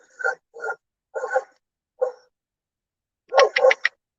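Several dogs barking at other dogs outside, sharp separate barks spaced through the first half, then a quick cluster of three or four louder barks near the end, nearby and clear against silence.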